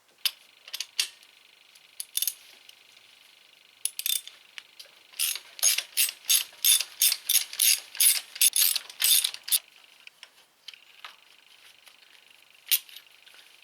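A hand ratchet clicks while screwing spark plugs into a car engine, close and crisp, with scattered single clicks and then a steady run of rapid ratcheting bursts in the middle before tapering off to occasional ticks.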